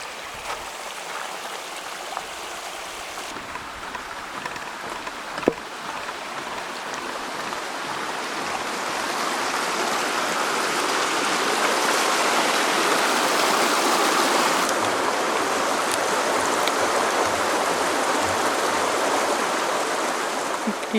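Steady rushing water from a stream near a waterfall along a hiking path lined with melaleucas, a continuous broadband roar that swells slightly louder midway, with no voices.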